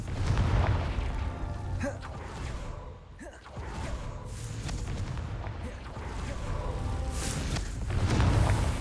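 Confringo fire spell cast in the Hogwarts Legacy video game, producing rumbling booms and whooshing blasts that swell and fade over several seconds, mixed with game sounds and a brief voice.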